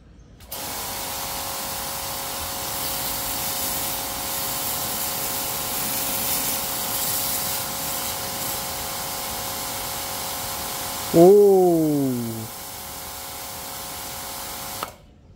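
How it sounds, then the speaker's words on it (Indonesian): A 500-watt Yasuka HPW650IP high-pressure washer sprays steadily with a constant loud hiss, interrupted near the end by a brief mechanical whine that rises and falls. "Untuk gun-nya saya langsung semprotin."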